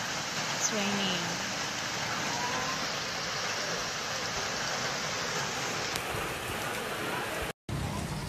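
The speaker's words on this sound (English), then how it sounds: "It's raining." Steady heavy rain falls in Bali, a dense, loud, even hiss that lasts throughout with a brief dropout near the end.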